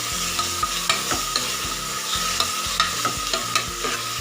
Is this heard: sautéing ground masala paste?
yes